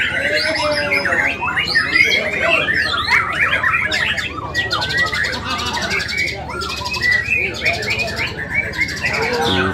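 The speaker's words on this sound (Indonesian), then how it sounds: "Kita lihat burung ini tetap berkicau juga." White-rumped shama singing at an outdoor bird-song contest, a dense stream of rapid varied whistles and chirps, loud and close, mixed with other birds calling and faint background chatter.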